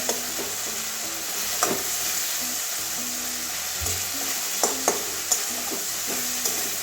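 Mushroom and soybean curry ingredients fry in oil with panch phoron five-spice and bay leaf, a continuous low sizzle under occasional spatula scrapes and a few light clicks against the pan.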